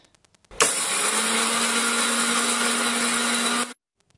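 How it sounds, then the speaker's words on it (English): An electric blender grinds sambar powder with turmeric and hing, starting abruptly and running as a loud, steady whir with a constant motor hum for about three seconds before cutting off, with faint clicks before and after. "we first ground the whole ingredients and then added the hing and turmeric powder and then blended it again into a fine powder"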